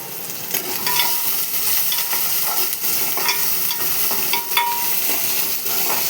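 Onion, green chili and curry leaves frying in oil until golden, producing an even, close sizzle throughout, broken by light scraping and small clicks of stirring.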